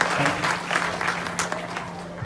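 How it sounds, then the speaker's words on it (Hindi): An audience claps loudly for a guest during a startup success-story talk, a steady burst of crowded applause filling the whole moment with no voice over it. "मैं चाहूंगा एक जोरदार ताली होनी चाहिए"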